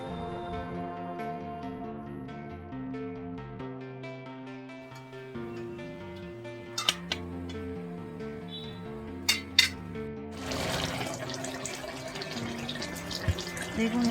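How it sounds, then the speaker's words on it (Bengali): Water is poured into a cooking pan (kadai) of large bhola fish curry: a rushing, splashing pour begins late, following a few metallic clinks over soft background music. "এবার আমি পরিমাণ মতন জল ঢেলে দিচ্ছি।"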